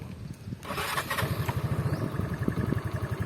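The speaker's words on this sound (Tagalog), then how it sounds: "Pigayin mo to tsaka mo i-start i-start siya" A Motorstar Easyride 150 fi motorcycle engine sputters to life and settles into a steady, close idle with a rapid pulsing rhythm.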